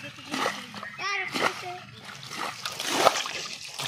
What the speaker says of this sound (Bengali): দেশি পদ্ধতিতে হেঁচা আরম্ভ করে দিচ্ছি